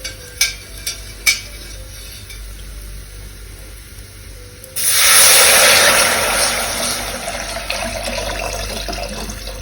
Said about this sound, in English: Now it's time to add our tamarind. Yes, I'll give it a gentle mix.